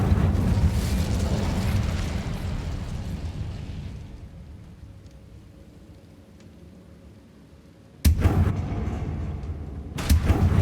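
In Hogwarts Legacy, an Incendio fire spell bursts with a loud, roaring blast that fades over several seconds into quiet, then two more sharp fiery bursts hit near the end.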